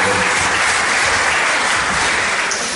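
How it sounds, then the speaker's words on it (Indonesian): A church congregation bursts into loud, dense applause that runs continuously and close, tapering slightly at the end. "Beri tepuk tangan yang luar biasa"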